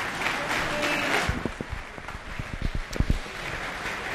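Audience applause after a speech at a formal event, a broad steady wash of clapping with some sharper nearby claps standing out, filling the whole stretch.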